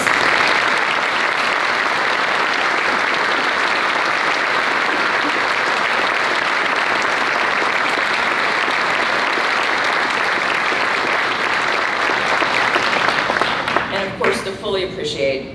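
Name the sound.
audience applause for a retiring professor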